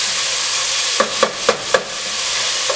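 Onions sizzle loudly over high heat in a pot for homemade lentil soup, with steady frying hiss and four evenly spaced stirring scrapes of a utensil.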